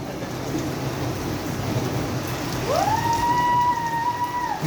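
The first November rain in Saudi Arabia pours steadily outside a house, a dense even hiss of rain on surfaces, with a brief wavering whine rising over it midway.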